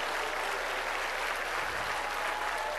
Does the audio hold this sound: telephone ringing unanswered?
no